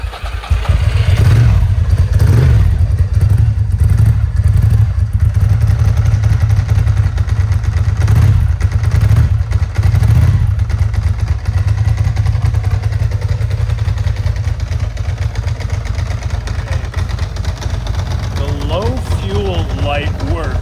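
A 1998 Ducati ST2 motorcycle with cold pipes runs close and loud, its engine rumbling steadily with a few louder surges. Someone talks over it the whole time.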